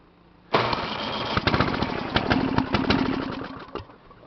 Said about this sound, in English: Start up. We got snow blowing to do.